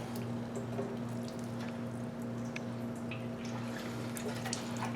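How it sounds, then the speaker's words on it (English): Gasoline drains in a steady, close trickle from the petcock of a barn-find Suzuki Katana motorcycle that is set on reserve, with a constant low hum underneath and no talking. "Looks like the gas is just coming right out of this thing."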